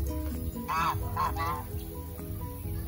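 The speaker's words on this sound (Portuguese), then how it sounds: "O som da farra dos gansos." Geese honking loudly in a few harsh bursts over a steady background hum, close by and overlapping.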